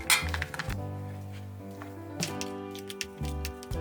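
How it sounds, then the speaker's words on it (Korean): Boiled potatoes are mashed and pizza cheese mixed in a bowl, with clinking utensil taps against the dish and soft squishing, close and intermittent. "자, 감자는 이렇게 으깨어 줄 거예요. 으깬 데다가 이렇게 치즈를 같이 섞어 줄 거예요."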